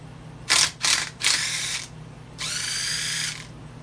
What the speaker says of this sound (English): this motor, let's see, it's still kind of hard to spin over